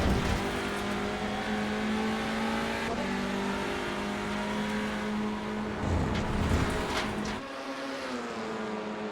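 TCR touring race car engines roar continuously in a sim racing game at Silverstone's Legacy 2008 GP layout, loud sustained engine drone with shifting pitch as cars accelerate, gear changes and a dip near the end, with no talk.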